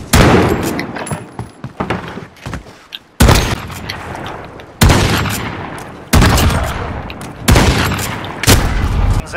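Gunfire in the shooter game Modern Warfare: loud, close bursts of shots and booms come in repeated volleys with short gaps between them, and no talking is heard.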